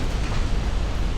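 A warship blowing up from a flash fire in the naval game Ultimate Admiral Dreadnoughts, a heavy, rumbling explosion that fills the low end with a continuous, loud roar.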